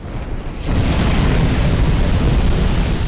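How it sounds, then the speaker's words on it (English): An old dragon in Dark Souls 2: Scholar of the First Sin breathes fire, a sudden deep roaring blast that swells after a moment and holds as a loud, sustained rushing boom. "And he does do a fire breathing attack"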